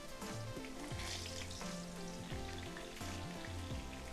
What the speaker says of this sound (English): We'll start frying the eggplant in small batches.